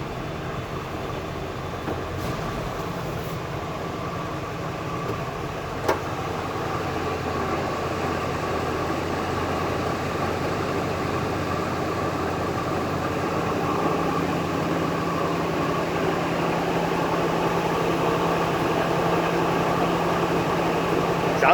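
A 1970 Chevrolet C20 pickup with an Eaton H052 rear axle drives along in second gear, giving a steady, continuous engine and drivetrain drone with road rumble that builds slightly louder over time, with no pauses.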